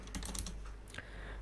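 Quick bursts of computer keyboard typing, close and crisp, a fast cluster of keystrokes followed by a couple more taps as code is entered.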